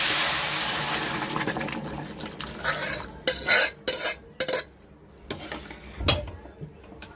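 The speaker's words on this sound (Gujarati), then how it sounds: "એમાં આપણે નાખી દઈશું આ ગોશની ગ્રેવી" Mutton gravy pours into a pan of hot oil fried with chilli powder, giving a rush of sizzling liquid that fades. Sharp spoon-on-pan clinks and stirring scrapes follow.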